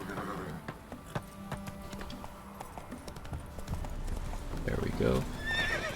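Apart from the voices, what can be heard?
Witcher 3 video game horse Roach galloping and neighing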